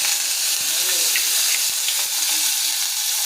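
Onion frying in a pan for a light fish curry, a constant close sizzle with soft crackles and no pauses throughout.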